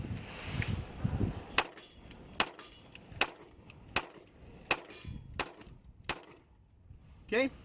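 Pistol fire from a SCCY CPX-2 handgun as its magazine is emptied: about nine sharp, loud shots at uneven intervals over several seconds, with a low rumble and brief talk near the start and a metallic clink at the end.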